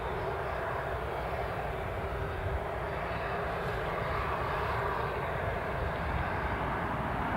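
Outgoing Ryanair jet at Newcastle International Airport, a steady broad engine roar heard from a distance, continuous and fairly faint throughout.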